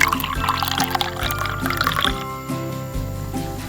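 Water pouring and splashing into a cooking pot for boiling clams, with gurgling drips over a low hum, close by.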